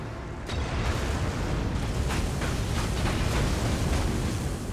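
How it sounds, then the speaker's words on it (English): In an Elden Ring PvP invasion, thrown bombs go off in quick succession, a low rumbling burst rising after a brief quiet start, followed by repeated dull booms and crackling blasts that hold steady and loud. "So we have some quick back and forth with the bombs here."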